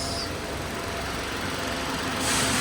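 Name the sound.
car engine idling smoothly in a garage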